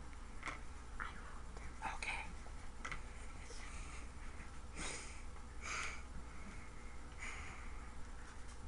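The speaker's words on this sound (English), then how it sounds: "Okay, you can stop breathing so heavy." Close, quiet breathing from a child breathing heavily, with sniffing and snorting bursts recurring every second or so near the microphone, over a soft background hiss.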